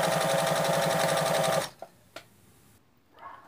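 A sewing machine stitches along a folded rug edge, running in a steady rapid loud whir for over a second and a half, then stopping with a few clicks.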